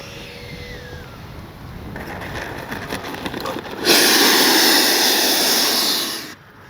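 Freewing 80mm JL-8 RC jet landing with flaps down, its ducted-fan whine rising from a distant hiss to a loud, close, roaring rush before cutting off abruptly near the end.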